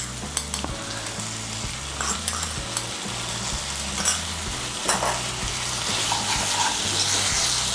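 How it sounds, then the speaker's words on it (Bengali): Potatoes tossed with spices in a frying pan, a steady sizzle running throughout under repeated scraping strokes of a spoon against the pan, with no talk. "আলুগুলোকে মশলার সঙ্গে ভালো করে মিশিয়ে নেব"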